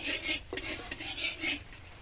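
A utensil scrapes and clinks against a pan in quick, rhythmic strokes, a close metallic stirring sound, stirring pork lard for chicken curry with bamboo shoots.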